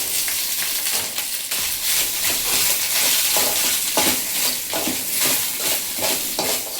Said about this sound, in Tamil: இது இஞ்சியும் உளுத்தம்பருப்பும் நல்லா இதில் வந்து ஃப்ரை ஆகட்டும் எண்ணெயில்.